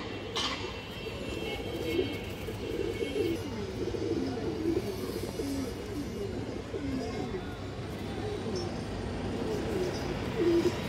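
Kaldom pigeons cooing in a steady, low murmuring chorus that runs throughout, with someone talking over the birds nearly the whole time.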